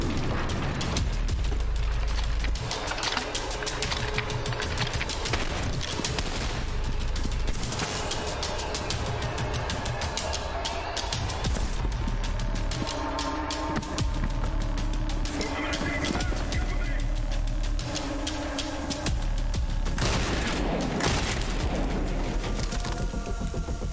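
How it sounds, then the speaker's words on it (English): Shotgun fire in the first-person shooter Trepang2, with heavy blasts repeating through sustained loud combat, mixed with mechanical clatter and impacts. "the shotgun is super strong"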